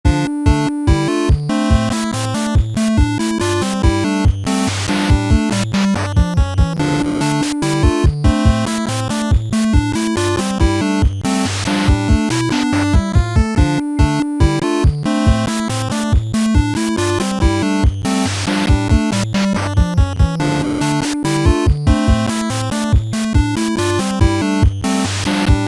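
Dense 8-bit chiptune video game music made from a few square-wave channels. It has a fast bouncing bassline, bright arpeggiated lead tones and sharp noise-channel drum hits, and it plays loud and continuous with no voices.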